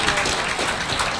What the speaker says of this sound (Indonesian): Mari kita beri tepuk tangan untuk Diamond Director kita